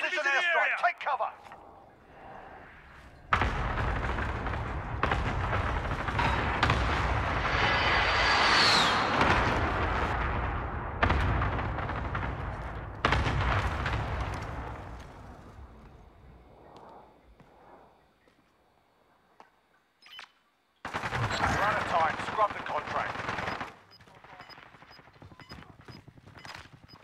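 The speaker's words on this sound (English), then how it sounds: "Enemy precision airstrike. Take cover." Precision airstrike explosions in the Call of Duty Warzone video game, a long stretch of loud, continuous blasts and gunfire-like bursts that fades out and then returns, with voices heard at times.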